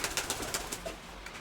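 Soft pigeon coos repeat in short pulses over a low, steady background hum, fairly close and unhurried.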